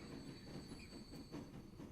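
Train rolling out of a station in the railway-building game Transport Fever 2, a steady close rumble of wheels on track with faint squeal and light clickety-clack, continuous for about two seconds.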